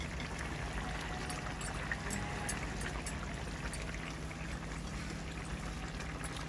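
Rohu fish goes into a pointed gourd curry simmering on the stove. A steady bubbling, watery wash with soft splashes continues under a low hum, and no one speaks.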